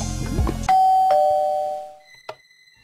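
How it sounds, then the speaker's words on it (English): A two-tone doorbell chime in a Minecraft animation rings out clearly, its notes lingering and fading, followed by a short sharp tap after a moment of quiet. "Oh, that's the doorbell."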